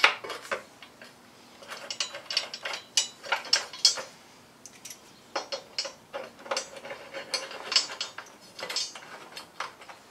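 A hand ratchet clicks in quick bursts while bolts are done up on a Triumph Tiger motorcycle in a garage, the sharp ratcheting strokes repeating in short irregular runs with quiet pauses between, close and clear.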